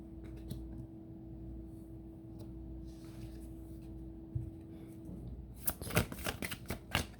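A deck of cards being shuffled, with soft faint riffling and handling early on, then a burst of sharp, close, rapid card snaps near the end over a low steady hum.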